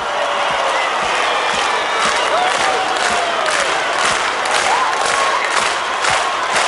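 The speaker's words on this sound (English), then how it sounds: "And clap with me, come on." A concert crowd at a pop music show claps along rhythmically and cheers, with steady beat-like claps and shouting voices forming a loud, continuous roar.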